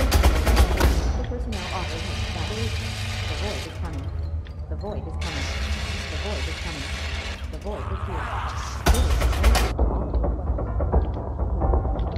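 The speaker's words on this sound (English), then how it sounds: "Darn chain reaction explosions." A rapid chain of booming explosions in the video game Cargo Commander crackling in bursts, loud at the start and again near the end, over steady game music.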